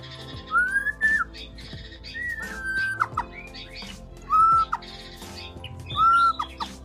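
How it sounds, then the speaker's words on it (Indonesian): A white-rumped shama sings loud, clear whistled phrases, repeating rising and falling notes with quick chirps between them, close by. "murai batunya ya, biarin dulu dia gacor-gacor ya"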